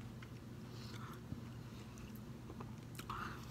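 Crunchy walnuts and grapes being chewed up close, with soft bites and crunches repeating over a steady background hum and no talking.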